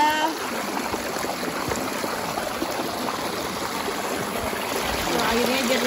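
Clear water of a mountain stream flows over rocks, making a steady, continuous rushing and trickling wash that stays even and fairly loud from start to finish.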